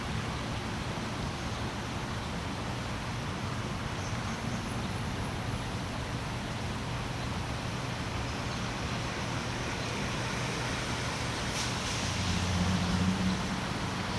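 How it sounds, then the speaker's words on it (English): Road traffic noise near a cemetery forms a steady broadband rush with a faint distant vehicle swelling near the end, constant and unbroken with no voices. "With all the traffic noise"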